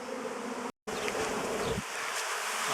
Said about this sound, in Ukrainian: ось так заходить рій своє нове жиліще